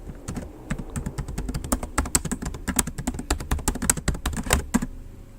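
Computer keyboard typing a library name, a fast irregular run of crisp close keystrokes with short pauses, no talking.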